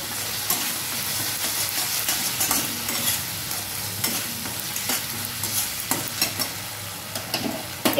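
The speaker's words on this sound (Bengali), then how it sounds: "এটা কিন্তু খুব ভালো করে নাড়িয়ে নেব।" Chilli chicken being stirred in a frying pan, a steady sizzle with repeated scraping strokes of the spoon against the pan, close and fairly loud throughout.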